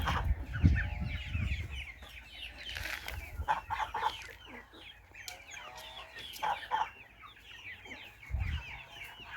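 Hens, roosters and chicks cluck and chatter close by, with scattered squawks and bursts of calling over a quiet background.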